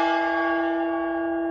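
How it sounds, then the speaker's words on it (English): A metal gong picked up at a garage sale is struck once, ringing out loud and close with a bright, sustained shimmer that slowly decays, alone with no voices. "I didn't even get to bring out my gongs"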